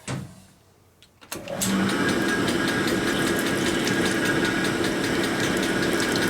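Cylinder hone with a fine stone spinning inside a Harley shovelhead cylinder from a 1983 FXRT 80ci engine, a quiet start then a loud, continuous rough grinding drone up close.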